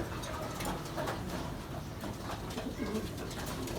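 Domestic pigeons cooing in a breeding loft, soft low coos repeating steadily under a dense, noisy background, with a faint voice now and then.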